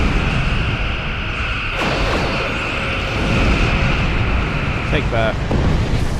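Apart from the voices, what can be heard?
quantum torpedoes fired and exploding in the video game Star Trek Online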